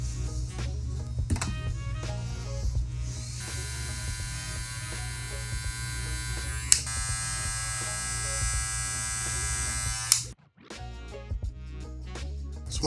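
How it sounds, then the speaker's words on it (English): A Stylecraft Rebel 2 hair clipper buzzes steadily up close with a bright, high whine that holds for several seconds, then cuts off abruptly near the end. "Everything you ever wanted to know about the Rebel 2 clipper from Stylecraft."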